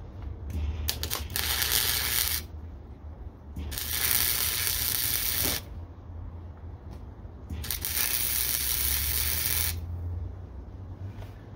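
Welding on a bumper for a 1999–2004 Jeep WJ, heard as three long bursts of close, steady crackling and spitting, each a couple of seconds long, separated by short quieter pauses.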